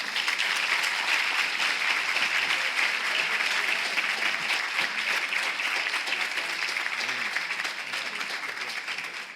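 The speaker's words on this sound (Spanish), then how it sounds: "os pido que recibáis con un fuerte aplauso a Encarna Sánchez y Daniel Rodés" An audience at a talk on spiritual paths through the Egyptian gods applauds to welcome the speakers, with dense, sustained clapping that holds steady and fairly loud throughout before easing slightly toward the end.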